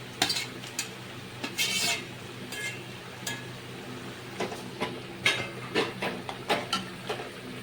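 Fried taro stolons being stirred into a hilsa curry in a pan: intermittent scraping and clinking of a spatula against the pan over a soft sizzle, with irregular bursts of stirring.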